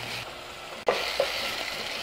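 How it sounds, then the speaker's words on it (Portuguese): Garlic and onion stirred with a pinch of salt in a pan for an asparagus cream soup, giving a steady soft sizzle with a couple of brief scraping stir sounds near the middle. "Vou dar uma misturadinha."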